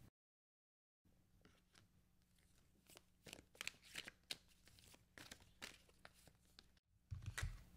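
An animal spirit oracle card deck is shuffled by hand, with quiet repeated riffling and snapping card sounds in irregular bursts, close and soft after a brief silent start.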